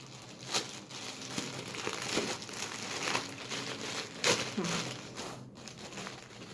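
Stapled plastic packaging crinkles and crackles continuously with sharp tearing snaps, close and fairly quiet, no speech.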